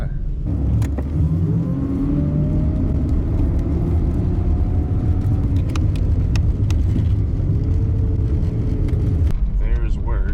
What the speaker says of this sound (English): fired the van up, and now I'm going to drive to work